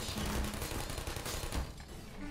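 Automated turret gunfire in the Portal video game, a dense, continuous burst of rapid shots running loud and close for about two seconds before tapering off.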